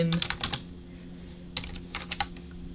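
Keys clatter on a computer keyboard as Python code is typed, with a quick burst of taps, a pause, then a few more scattered keystrokes, close and fairly light.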